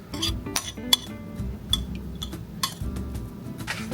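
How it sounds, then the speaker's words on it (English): A spoon scrapes and clinks against a bowl while scooping butter into dry ingredients for sweet potato biscuits, making several sharp metallic taps and soft scraping sounds, close and with no speech. "I'm going to just scoop out the rest of this butter."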